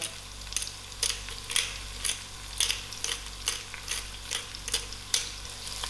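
Onions and a grain of pepper frying in oil for a spicy potato soup, a soft continuous sizzle punctuated by regular scraping stirs about every half second.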